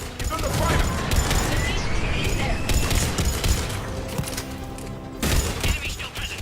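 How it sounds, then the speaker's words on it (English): Dense gunfire rattles at a checkpoint in the Mass Effect 3 video game, with rapid overlapping bursts and mechanical clatter running throughout, mixed with voices in the firefight. "Cerberus troops at checkpoint. Attempting to kill Krogan. Need assistance. The checkpoint is under fire!"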